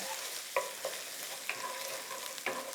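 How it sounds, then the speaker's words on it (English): Tomato paste is stirred in a skillet for a one-pan chicken puttanesca: soft frying noise underneath, with a few distinct scrapes and clinks of the spoon against the pan, close and fairly quiet. "you want to stir this around till your tomato paste starts sticking to the bottom of the pan"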